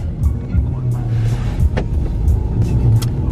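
A car's engine and road noise rumble steadily from inside the cabin, low and continuous, with a few faint clicks and knocks over the top.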